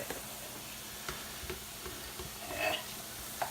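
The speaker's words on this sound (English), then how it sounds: "Now we throw the sausage in there." Italian sausage lands in a pan on high heat and sizzles with a soft, steady hiss broken by a few light stirring taps, close but quiet.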